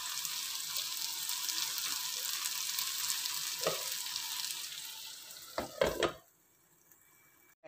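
Eggplant stir-fry with curry leaves cooking covered in a pan, a steady soft sizzle and frying crackle, ending with a few clattering knocks before the sound drops away.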